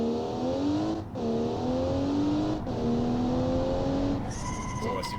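An all-wheel-drive car in a driving game revs hard to its limiter in repeated rising pulls, each cut by a brief gap at the gear change, with a squeal of tires near the end.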